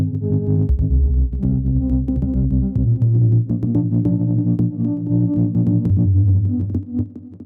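Dense, shimmering guitar tones broken into overlapping grains by a granular plugin, a thick sustained wash with scattered flickering clicks, loud and steady, no voices.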